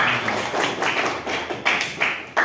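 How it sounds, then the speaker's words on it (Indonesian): Students clap their hands together during an anti-corruption awareness session at a school, a dense burst of close, rapid claps that stays fairly even and ends in a few louder slaps. "Tepuk tangan dulu."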